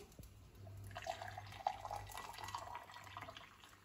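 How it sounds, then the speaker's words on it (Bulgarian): Warm water pours into a cup, a soft liquid trickle with small splashy drips over a faint steady background hum, brief and close. "ще си напълним чаша с топла вода."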